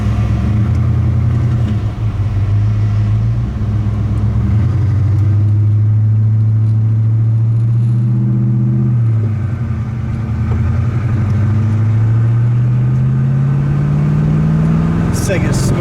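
A 1961 Pontiac Catalina with a V8 and tri-power carburetion is driven along, its engine giving a steady, loud, low rumble that rises and falls in pitch as the car shifts and accelerates. Road noise runs throughout.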